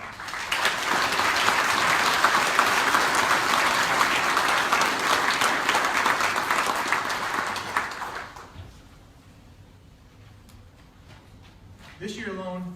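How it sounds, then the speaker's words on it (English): Audience at a fire department awards ceremony gives a long, loud round of applause that fades out around eight seconds, leaving a quiet room before a voice begins speaking near the end. "Please join me in a round of applause."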